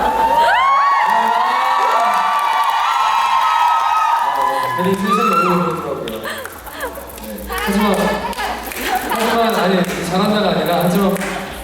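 Fans at a K-pop fan signing event for a record release erupt in loud, sustained cheering and high-pitched screams, with bursts of shouting and whoops that rise and fall over mixed crowd chatter.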